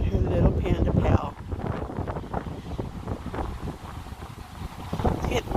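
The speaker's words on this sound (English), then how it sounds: "It's windy." Wind blowing at an outdoor frisbee park, a steady rumbling gust buffeting close over the microphone throughout, with someone talking under it.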